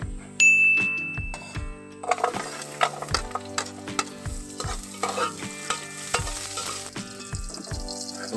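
Chopped onions sizzle and fry in a pan for a Filipino catfish dish, with steady frying hiss under rhythmic metal utensil scrapes and clinks from stirring.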